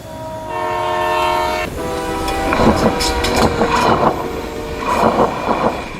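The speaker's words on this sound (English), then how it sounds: "A train's flat tire is often identified by the high screeching noise it produces" Loud, sustained metallic squealing from train wheels on the rails, with shifting tones over a clattering, rumbling rail noise close by.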